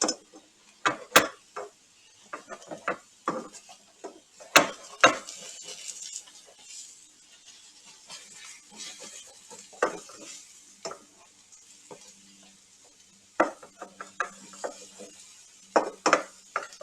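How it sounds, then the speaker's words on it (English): A spatula stirs and scrapes turkey and chicken meatballs in a frying pan with a light sizzle, giving irregular scraping strokes and sharp metallic clinks at close range, with no talking. "I'm going to use a spatula on this"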